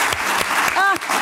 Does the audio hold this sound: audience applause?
yes